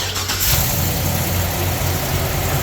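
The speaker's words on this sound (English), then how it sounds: "we're going to start the bus" A mini bus engine cranks briefly and catches, then settles into a steady, close, loud idle with a low rumbling throb.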